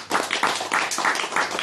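An audience clapping hands during a religious talk, a short burst of brisk, dense applause heard fairly close, lasting under two seconds.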